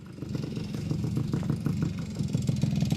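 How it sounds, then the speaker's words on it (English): A Yamaha YSR small motorcycle engine running near the microphone with a steady, loud, pulsing putter that rises slightly as it revs, and no voices over it. "so we got the new bike running. We got it fired up."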